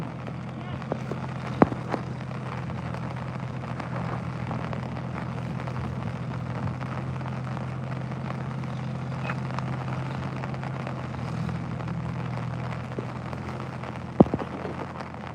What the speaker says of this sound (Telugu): పొద్దు నుంచి వర్షం అసలు తగ్గుతలేదు